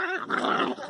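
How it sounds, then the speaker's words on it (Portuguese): A dog lets out a short, rough growl, close and moderately loud, lasting under a second. "o cachorrinho foi correr atrás do gato"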